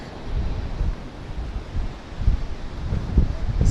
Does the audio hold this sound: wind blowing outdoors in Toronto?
yes